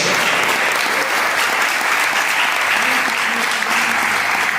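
A congregation at a family celebration church service claps loudly and continuously in praise, the dense applause sustained throughout with a faint voice or tone beneath it.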